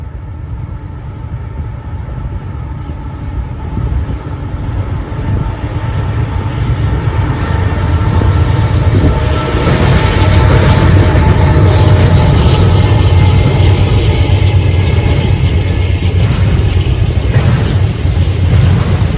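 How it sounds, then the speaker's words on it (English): A Norfolk Southern intermodal freight train rolls past on the Chicago line at Berea, a loud, steady rumble of wheels and cars that swells and holds close throughout with no voices. "As this intermodal train was passing"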